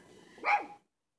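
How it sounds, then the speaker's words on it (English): A pet dog at a grandmother's house gives a single sharp bark, close and fairly loud, after a short stretch of quiet room noise, then silence. "her dog right there is going to make an appearance. She's barking at me."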